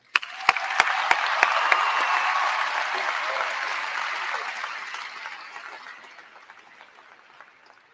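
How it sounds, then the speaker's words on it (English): Sustained applause from a graduation ceremony audience at a high school, starting with a few sharp near claps, swelling into dense clapping and then slowly thinning out over several seconds. "it would be appropriate for another round of applause right now"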